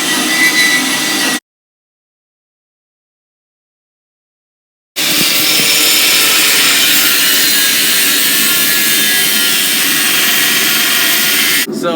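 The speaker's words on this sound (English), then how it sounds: "So we just got that cut out on the angle grinder." An angle grinder cuts through 1084 steel in a blacksmith's forge with a loud, steady high-pitched whine, stopping abruptly, then resuming after a few seconds of silence and running continuously.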